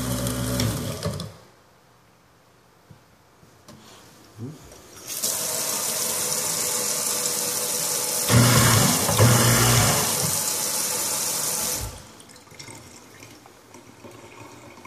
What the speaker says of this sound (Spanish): trae destructor de desperdicios